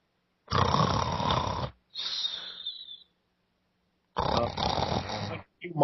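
A human voice imitates snoring: a long, loud rasping snore, a fainter wheezy exhale, a pause, then another long snore and a short snort at the end.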